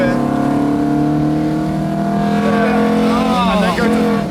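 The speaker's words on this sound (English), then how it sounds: "That's my favorite gear change is second into third." Loud car engine revving hard through a second-to-third gear change and into the VVTI cam zone, the pitch climbing, dipping at the shift, then rising again, steady and close, with a voice talking over it.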